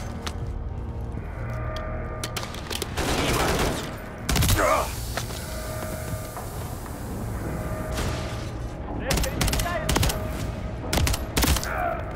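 Gunfire in the Call of Duty Modern Warfare 3 video game: bursts of rapid shots and heavy blasts come in clusters, loud and close, with a dense battle din running between them.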